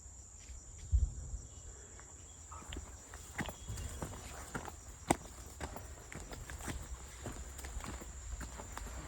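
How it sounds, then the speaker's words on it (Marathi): A steady high-pitched insect trill of crickets runs throughout, with scattered clicks, rustles and a few low thumps nearby. "रातकड्यांसारखा जो एक आवाज असतो ना"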